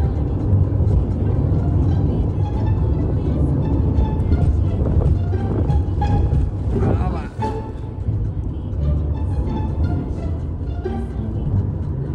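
A car drives along the road toward Ujjain, heard from inside as a steady, loud low rumble of engine and road noise that barely changes throughout, with voices faintly in the background.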